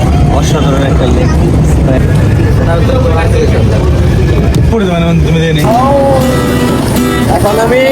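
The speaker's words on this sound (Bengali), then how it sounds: "এখন আমি স্পিড বোটে রাইড করতেছি" A speedboat powers across a lake at a resort park, its engine roaring loud and steady throughout, with a voice talking over the motor noise near the end.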